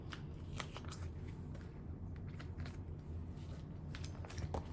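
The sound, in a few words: photo cards being handled and put away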